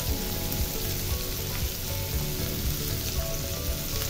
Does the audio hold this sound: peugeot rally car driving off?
no